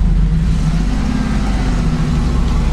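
The engine of an off-road car climbing a hill holds steady revs, a loud, low, continuous rumble with little change in pitch, heard close.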